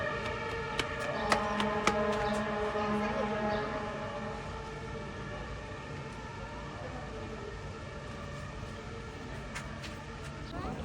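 An ambulance siren wails continuously through the street noise, with steady rising and falling tones and a few sharp clicks near the start, moderately close.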